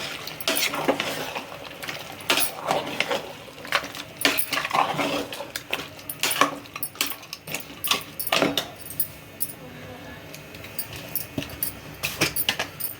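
Tamarind juice stirred into a pot of goat head curry, brisk clinking and scraping of a spoon against the metal pot in irregular bursts, with no talking.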